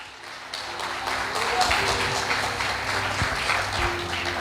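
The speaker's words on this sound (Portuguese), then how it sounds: "Alguém pode aplaudir?" Congregation applauding during a New Year's Eve church service at a national headquarters in Manaus, a steady wash of clapping that swells and holds, with a voice and low musical tones underneath.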